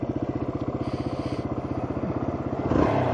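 A motorcycle engine pulses rapidly and evenly at close range, then rises into a louder, rougher surge near the end as it is ridden hard.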